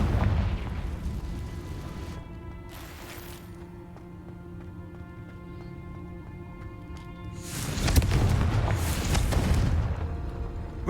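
Fire spell explosions from a wizard's wand in Hogwarts Legacy, a couple of loud booming bursts separated by quieter stretches of game ambience, the second blast swelling heavier near the end.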